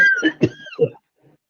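A few quick, harsh coughs from one person close to the microphone, bunched in under a second, then a faint trailing breath.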